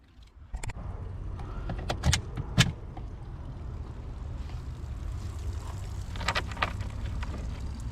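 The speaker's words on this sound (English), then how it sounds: "Fire up the engine." A Regulator 26FS boat engine cranks and fires up after some clanking and clicks, then settles into a steady low rumble nearby.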